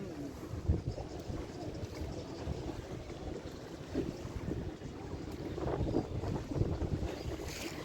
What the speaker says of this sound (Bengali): এখন একদম ব্রিজের তলায় ঢুকে গেছি কিন্তু কি সুন্দর নৌকাটা পুরো দুলছে